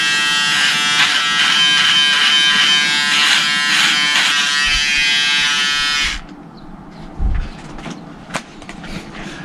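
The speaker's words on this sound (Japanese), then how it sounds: "この電気シェーバーで、まあ、ちょっと髭を剃ってみたんですけど" A Braun electric shaver buzzes steadily and loudly while shaving a beard close up, its high whine running for about six seconds before it switches off, leaving faint handling noises and a few small knocks.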